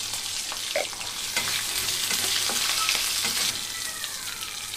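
Green chillies, cumin and coriander seeds frying together in a pan, with a loud, dense sizzle and crackle close by and occasional stirring scrapes throughout.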